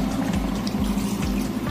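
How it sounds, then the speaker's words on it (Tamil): Hot water pouring into chicken gravy in a cooking pot, a steady, close splashing flow with a low pulsing gurgle throughout. "தண்ணி வெந்நீர் ஊத்தணும், பச்சை தண்ணி ஊத்தக்கூடாது."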